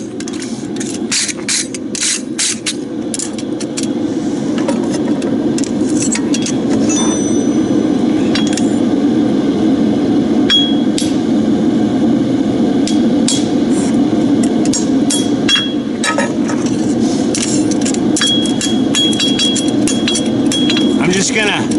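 A horseshoe is hammered to close it up, with sharp metallic hammer strikes ringing out in irregular bursts over a steady background hum while a person talks.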